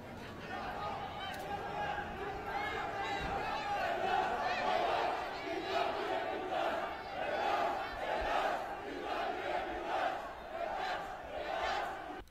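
A large crowd at the Thessaloniki Family Pride protest rally chants and shouts together in rhythmic surges, a distant mass of voices carrying a steady roar throughout.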